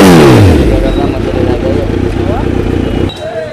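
A superbike with an aftermarket SC-Project exhaust revs hard and loud up close, climbing in pitch at first and then holding a raspy, throaty roar before dropping off.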